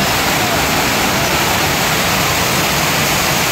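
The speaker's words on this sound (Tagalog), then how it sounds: "Oh, ang lalaki ng ang lalaki ng butil ng ulan na bumabagsak." Heavy downpour of large raindrops during a Luzon storm under Signal No. 1, a loud, steady broadband hiss of rain filling the whole stretch without a break.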